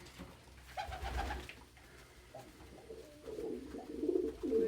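Pet pigeons coo close by in a low, throaty series, swelling louder toward the end among soft rustling, with other birds present and no speech.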